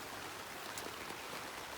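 Steady rain falls outdoors over a vegetable garden with zucchini plants, a continuous broadband hiss with faint scattered drop patter, even and unbroken throughout, with no voices.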